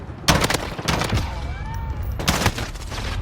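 Gunfire in Call of Duty Modern Warfare: two sharp bursts of rapid shots, one early and one near the end, with fainter pops and a rising whine between them.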